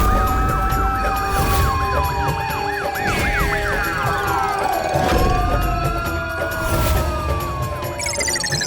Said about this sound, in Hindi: ये सायरन किधर से बज रहा है?